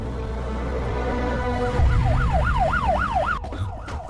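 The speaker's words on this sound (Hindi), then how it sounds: "ये तो पुलिस का सायरन है।" A loud wailing police siren in a film sweeps rapidly up and down over a low engine rumble, rising in after a steadier tone.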